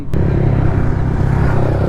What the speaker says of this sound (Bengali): ভাই কি খতরনাক লাগছে এতগুলো বাইক যখন আসে